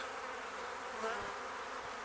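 A steady buzzing drone of honey bees around a hive, Buckfast and other queens' colonies, close and continuous, with no voices.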